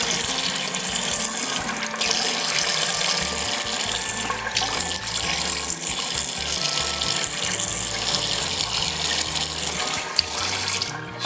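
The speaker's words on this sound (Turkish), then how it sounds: "Şimdi yüzümü yıkayayım." A sink tap runs steadily while someone washes their face, a loud, close, continuous stream of water splashing over the basin for the whole stretch.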